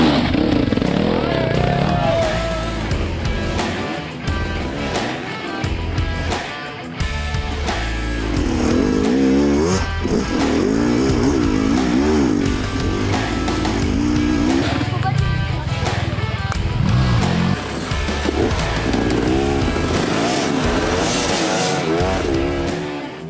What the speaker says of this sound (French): les moteurs sont malmenés et souffrent énormément dans ce canyon du motard perdu